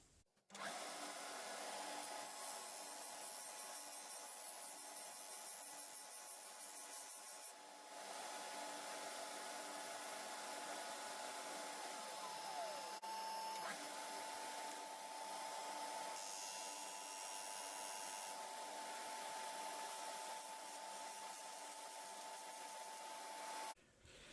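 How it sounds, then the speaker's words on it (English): A disc sander thinning small wooden pegs for a mug tree, a loud steady motor whine that runs almost without a break, with grinding as wood meets the disc and a brief pitch dip near the middle. "so I'm just going to make them a bit thinner on the disc sander."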